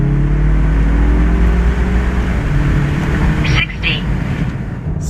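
A 2022 Mazda CX-30 Premium Plus in sport mode with windows down and AC off pulls hard from a stop, its loud, steady engine drone and rushing wind filling the cabin, easing briefly near the end as if shifting gears.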